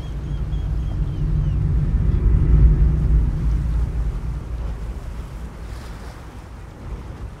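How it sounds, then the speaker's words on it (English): Strong wind roars and buffets against the microphone, a heavy low rumble that swells and slowly eases, with no voices. "kind of seek some shelter from this crazy wind"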